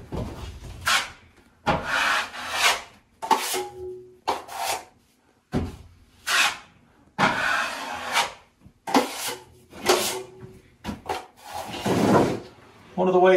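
A drywall knife scrapes and smooths joint compound over screws and seams during a mobile home renovation, a series of close, rasping strokes in bursts with short pauses between them.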